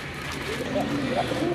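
Domestic pigeons coo in soft, low, rolling calls, repeating a few times beneath someone talking nearby.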